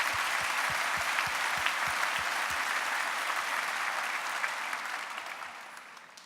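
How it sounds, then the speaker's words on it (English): Convocation crowd applauds steadily with a broad, dense wash of clapping, a few low thumps early on, fading gradually toward the end. "So give yourselves a round of applause."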